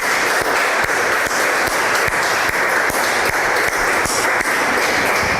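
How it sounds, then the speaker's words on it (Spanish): A church congregation at a Spanish-language worship service applauds loudly and steadily, with dense, sustained clapping and a few sharper rhythmic claps running through the whole stretch. "Ahí denle un fuerte aplauso al Señor."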